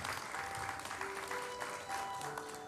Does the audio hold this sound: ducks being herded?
no